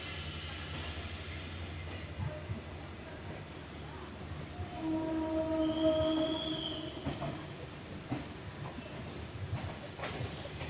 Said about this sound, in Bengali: শিয়ালদা স্টেশন ছেড়ে বেরিয়ে যাচ্ছে বজবজ লোকাল 34-132 নাম্বার।